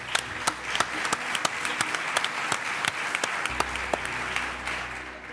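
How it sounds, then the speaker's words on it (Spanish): Scattered applause from an audience, individual claps standing out sharply at a moderate level, continuing steadily without voices. "Un aplauso para él, por favor."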